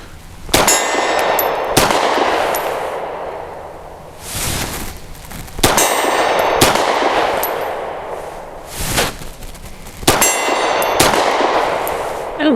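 Loud pistol shots from a Grand Power P1 Ultra ring off a steel target at about 30 yards, with three widely spaced pairs of sharp cracks, each followed by a bright metallic clang.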